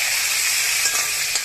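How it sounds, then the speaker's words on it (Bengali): Fish pieces and a fish head frying in oil in a pan for a home-cooked family lunch, a steady close hiss and sizzle with faint crackles running throughout, no voices. "এখানে মাছ ভাজাও আমার হয়ে গেছে"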